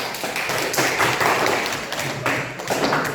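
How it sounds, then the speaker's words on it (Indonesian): Classroom applause for a student group at a junior high school in Aceh, a steady burst of clapping from the class lasting a few seconds, fairly close and evenly sustained. "Tepuk tangan untuk kelompok 3."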